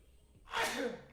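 A single sharp sneeze bursts out at close range after a faint breathy intake, loud and brief against a quiet room.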